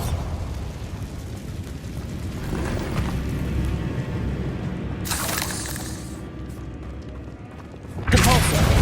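A Bombarda blasting spell in Hogwarts Legacy makes a rumbling, roaring blast that swells over several seconds, with bright cracking bursts midway and a sharp, loud impact near the end.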